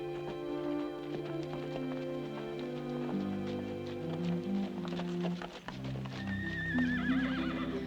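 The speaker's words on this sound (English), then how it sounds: "I'd like to see Mr. Sloan handle one of our Kansas horses" A horse whinnies and neighs loudly over steady clip-clop hoofbeats, with a rising, wavering whinny near the end, all under a busy musical background.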